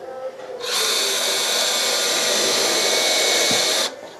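A power drill whirs steadily for about three seconds at close range, starting and stopping abruptly, with faint background noise before and after.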